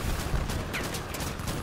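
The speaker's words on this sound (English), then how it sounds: "because I have two different types of machine guns" Dense, continuous machine gun fire in the vehicle combat video game Crossout, loud and sustained with rapid bursts and no talking.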